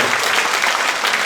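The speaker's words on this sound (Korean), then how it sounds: "다시 한번 큰 박수 부탁드립니다" A lecture audience at a Korean teachers' education event gives a loud, dense burst of applause, continuous and crowd-wide with no individual claps standing out.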